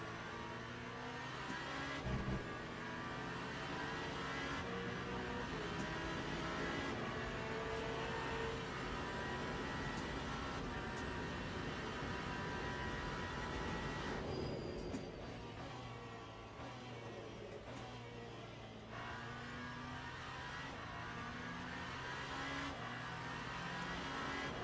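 Hypercar racing engines in the Le Mans Ultimate racing game, a dense, continuous high-revving whine that climbs and drops through gear shifts, with other cars roaring nearby.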